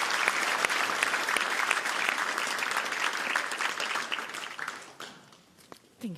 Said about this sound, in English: I would like to have a big applause for my panelists.